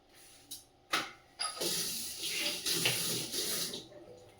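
Cold water from a kitchen tap gushes steadily into a sink after a few short bursts and knocks, loud and close with a hissing splash that continues until near the end, with no talking.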